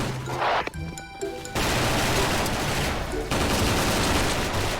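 Rapid bursts of BOLT G36C gunfire in a bomb-planting mode of a shooting video game, loud and close, with a brief pause between two long volleys.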